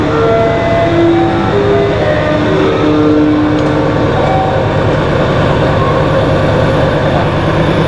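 Boat engines on a fishing outing run as a loud, steady mechanical rumble for the whole stretch, close by and without any voices.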